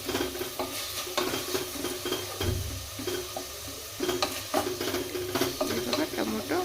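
A thick tomato fries in a pan for soybean pulao, giving a steady sizzle under repeated scraping stirs of a spatula, close and moderately loud throughout.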